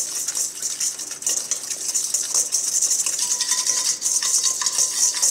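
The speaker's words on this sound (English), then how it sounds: "I want to whisk them with chopstick" Chopsticks whisking a marinade for chicken wings in a bowl, a quick, continuous bright clicking and scraping at close range with a steady rhythm and no talking.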